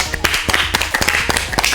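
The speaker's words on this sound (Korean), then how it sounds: "박수" Clapping in a Korean policy talk studio, a few people's hands striking in a quick irregular burst, close and fairly loud, with no voices over it.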